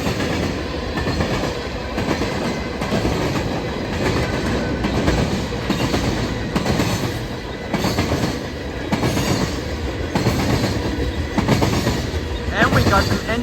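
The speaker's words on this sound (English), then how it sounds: "Nice. There goes off that train." A BNSF freight train hauling container cars, tank cars and boxcars rolls past up close, with a loud, continuous rumble and rhythmic clickety-clack of wheels over the rails and occasional squeals.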